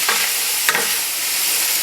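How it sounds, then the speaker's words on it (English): Red and green bell peppers sauté in hot oil in a pan for a Spanish chickpea stew. A loud, close, steady hiss and sizzle runs throughout, with a brief stirring scrape near the middle and no voice. "Toss well so the vegetables are well coated with the oil, and saute for another 8 to 10 minutes until golden"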